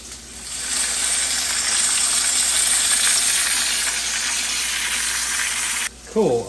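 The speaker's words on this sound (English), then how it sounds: "I'm gonna use this Voice Memos app to capture some audio of the frying bacon" Bacon sizzles and crackles steadily in a frying pan, a loud, close, continuous hiss that drops out at the end.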